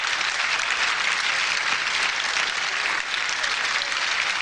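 Sustained, dense applause from a wrestling audience rewarding two wrestlers after a drawn bout, steady and loud throughout with no talk over it.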